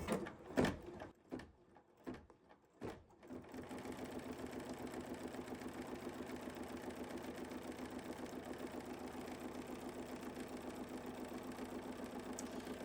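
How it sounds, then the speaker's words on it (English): A computerized embroidery machine stitches a grid onto a quilt piece, running with a steady, rapid mechanical chatter after a few separate knocks and clicks at the start. "I need to actually stitch the grid first."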